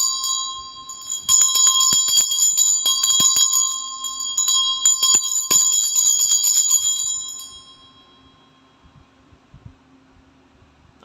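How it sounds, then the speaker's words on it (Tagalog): A Tibetan bell rung for a cleansing ritual, producing two long bright metallic ringing passes with a sustained shimmering tone that fades out, followed by quieter handling noise near the end. "Medyo magka-cleansing lang po ako using Tibetan Bell."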